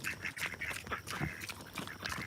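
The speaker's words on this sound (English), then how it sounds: "Oh, here comes the ducks." Farm ducks come to eat the pigs' feed, quacking in repeated short nasal calls at an uneven rhythm, moderately near and with no talk over them.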